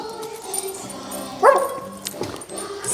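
A dog on a leash gives a single short, loud bark midway through, standing out over a steady background hum.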